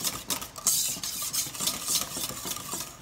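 A whisk taps and swishes steadily as eggs are beaten into tea cake quick-bread batter in a bowl, giving quick rhythmic clinks close by with no talking.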